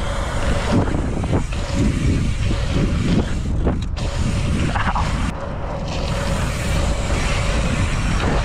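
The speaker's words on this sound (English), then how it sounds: "Quite windy." Strong wind buffeting a microphone, a loud rumbling roar with gusty surges and brief lulls, alongside some mechanical clatter.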